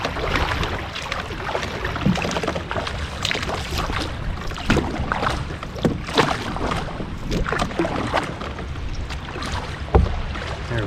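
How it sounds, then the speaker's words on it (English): A kayak is paddled along the Spruce Creek river, with steady close water sloshing and paddle splashes under constant wind noise and occasional knocks against the hull, with no talk. "we're gonna paddle it now before I hit shore."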